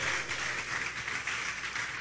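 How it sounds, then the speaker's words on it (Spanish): A church congregation applauding during a sermon, a dense steady wash of many hands clapping together at close range, continuous for the whole stretch with no voices on top. "Denle un aplauso al Señor"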